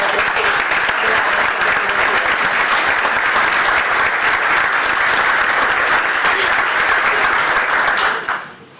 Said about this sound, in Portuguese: Para todos eles eu pedi um forte aplauso